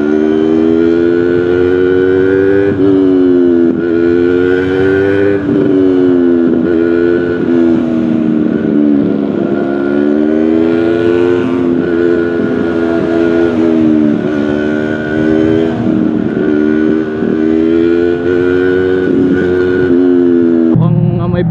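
A Royal Enfield motorcycle engine held at high revs, a loud steady drone with slow rising and falling pitch, close to the microphone.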